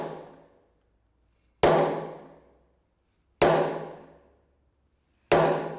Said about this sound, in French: Si je le fais avec le marteau, c'est un autre son